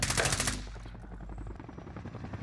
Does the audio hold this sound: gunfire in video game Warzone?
yes